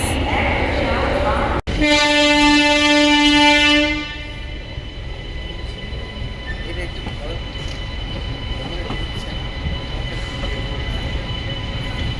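Maa Tara Express train standing at a railway platform, sounding a loud sustained horn for about two seconds before it cuts off, leaving a steady rumbling station hum.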